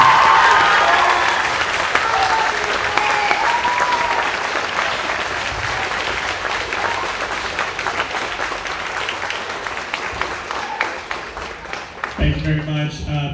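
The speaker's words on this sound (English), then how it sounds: "one more round of applause for all of our students who performed on stage tonight" A crowd applauds warmly and steadily after a high school band concert, the clapping gradually thinning out before a voice begins speaking at the end.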